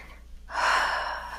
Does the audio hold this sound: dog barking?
no